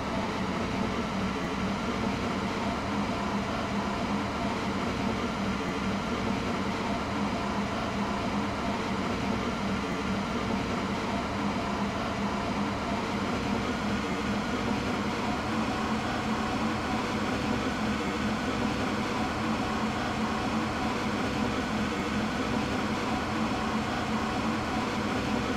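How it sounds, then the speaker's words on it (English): A Roblox train on the Stepford line runs with a continuous, steady rumble and hum of the rolling carriage, an even, dense drone throughout with no talk. "This is a Connect train to Stepford Central."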